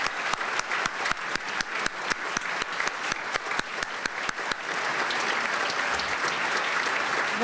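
Audience at a Martin Luther King Jr. memorial breakfast claps for dignitaries, starting as scattered rhythmic hand claps that swell into dense, sustained applause filling the room.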